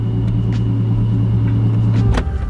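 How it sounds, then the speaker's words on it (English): Infiniti G37 sedan fitted with a supercharger and ported intake manifolds, its engine droning steadily up close with a constant tonal whine riding over the rumble, easing off near the end. "Oh dude, I love that blower whine so much."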